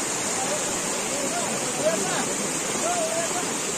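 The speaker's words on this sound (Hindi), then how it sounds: "पानी आ रहा है यहाँ से भाई" Mountain water in Gurez valley, Kashmir, rushes steadily as a close, continuous wash of noise, with voices talking faintly underneath.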